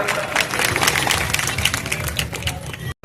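Loud applause from an audience at a temple groundbreaking ceremony and religious gathering in Kalakeri village, a dense, sustained burst of many hands clapping that cuts off briefly near the end.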